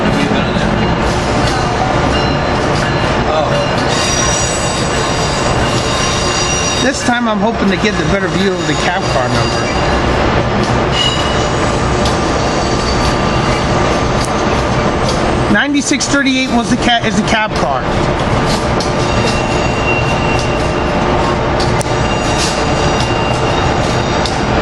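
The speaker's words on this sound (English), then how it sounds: "AEM7 904 with Keystone Train 664 headed to New York, pulling out." An Amtrak AEM7 electric locomotive pulling a Keystone train rumbles steadily past at close range as it pulls out, with a loud, constant roar and clanking wheels, while someone talks over the noise.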